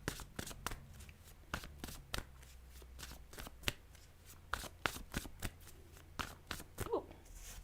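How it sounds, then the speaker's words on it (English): Tarot cards are shuffled close up, producing a rapid series of crisp riffling snaps and slaps with brief pauses between bursts. "when I was shuffling the cards"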